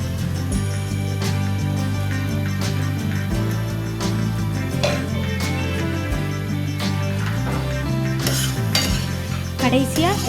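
A spoon scrapes and clinks against a pan as thick egg malai masala is stirred, over a steady low hum, with occasional sharper metallic taps.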